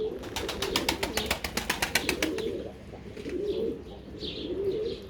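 Pigeons in a coop give rapid pulsing calls in a quick rhythmic burst, followed by softer cooing and chirps at moderate distance.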